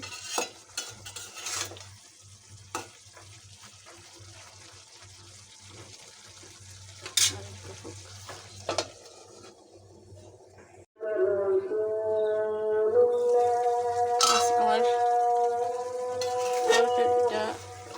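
Pabda fish curry with green banana stir-fried in a pan, with intermittent scraping and stirring clatter over a low sizzle, then a sustained musical tone, likely music, rising over the last few seconds.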